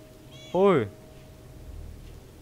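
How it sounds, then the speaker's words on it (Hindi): A single clear cat meow from the video game Stray, close and prominent, rising then falling over about half a second against quiet background hum. "यार ये तो हमारी बिल्ली थी।"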